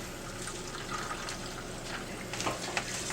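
Liquid, warm water for special effects blood, poured from a plastic cup with a pinched spout, a soft trickling splash that builds briefly, quiet and close.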